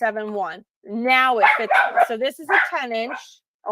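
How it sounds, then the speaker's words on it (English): House dogs bark and yip in loud, clustered bursts, close by, mixed with whimpering, while a person talks over them. "I'm so sorry for my dogs."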